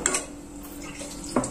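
Vegetable rava upma being mixed in a pan, a metal spoon clinking and scraping against the pan in a couple of quick strokes, with a faint sizzle underneath; close and short.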